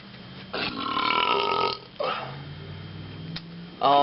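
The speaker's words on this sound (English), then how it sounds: "Pizza beer burp." A loud, drawn-out burp after drinking beer, rumbling for over a second close to the microphone, followed by a second shorter belch and a brief sound at the end.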